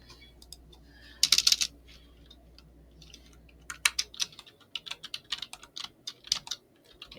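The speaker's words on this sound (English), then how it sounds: "So we have typed our revisions" Typing on a computer keyboard: an opening burst of clicks, then a steady run of uneven keystrokes, close and fairly soft, with no voices.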